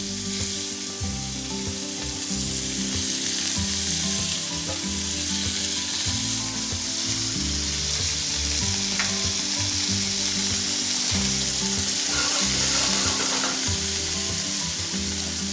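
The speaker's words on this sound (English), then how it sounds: "we're just going to go in and just brown off that kangaroo sinew" Kangaroo sinew browning in a dash of hot oil, a loud, dense, continuous sizzle heard up close with occasional faint stirring scrapes, no voices.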